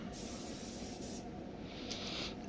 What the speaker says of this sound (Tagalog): sinisimulan na ang pag-i-spray ng clear coat sa bonnet ng Tesla